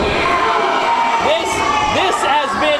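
A wrestling crowd at a falls count anywhere main event cheers and whoops loudly, rising shouts and excited voices swelling throughout, with a commentator's voice over the noise.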